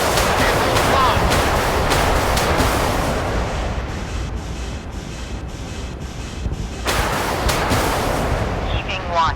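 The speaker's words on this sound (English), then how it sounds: "Missile launched." In the naval warship game Force of Warships, heavy rumbling blasts and roaring missile launch noise fill the clip, loud and sustained with a dip in the middle before a renewed burst.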